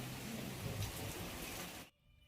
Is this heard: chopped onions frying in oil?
no